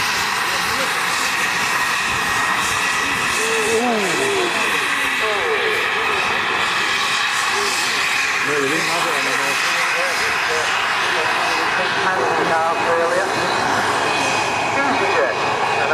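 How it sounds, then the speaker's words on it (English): A model airliner coming in to land at a model air show, its engine a steady loud whine and roar filling the whole stretch, with crowd and outdoor noise mixed underneath. "Main wheel's down now, just holding the nose wheel up and dropping it down very, very, very gently."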